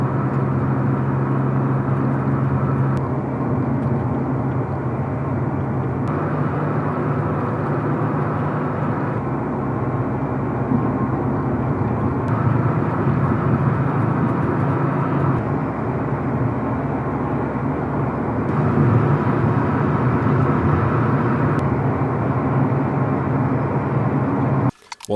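Steady low road rumble and tire drone inside a moving Subaru WRX cabin, a continuous broadband hum with slight shifts in level and no talking.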